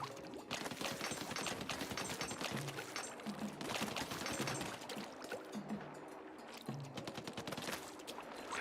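Rapid, continuous bursts of ink-weapon fire in Splatoon Raiders, a dense rattling stream of shots that rises and dips in waves for several seconds over a splashy, watery game background, fairly quiet overall.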